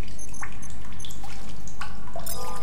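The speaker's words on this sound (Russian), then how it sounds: "Вот, вода, сейчас пополню хотя бы воды запасы." Water drips and trickles inside a cave in the video game The Solus Project, with scattered plinks and splashes over a constant low rumble, close and fairly loud, no talking.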